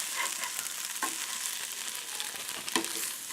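Hamcakes frying in a pan give a steady, bright sizzle with crackling spits and a few sharper pops, continuous and close with no talk.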